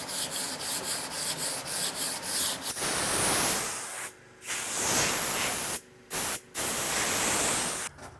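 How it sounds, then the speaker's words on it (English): Shellac or polyurethane sprays from an aerosol can onto freshly sanded wood in a workbench project, long hissing bursts separated by short pauses, close and fairly loud. "spray on some shellac or polyurethane, whatever I have laying around"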